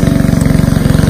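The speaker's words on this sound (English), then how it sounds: "my husband's mowing the grass" A lawn mower engine runs steadily outdoors, loud and close with a fast, even pulsing throb, no voices over it.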